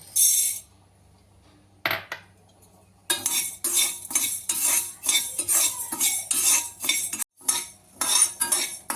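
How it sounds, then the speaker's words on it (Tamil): Urad dal dry-roasting in a pan for podi, stirred with a metal spoon, giving rapid rattling and scraping clinks in bursts with short pauses between them, close and fairly loud with no talking. "இப்போ உளுந்த வறுத்துடலாம்"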